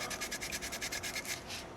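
Sandpaper is rubbed back and forth over a small soapstone wolf carving, about a dozen even, rhythmic scrapes heard up close with no talk.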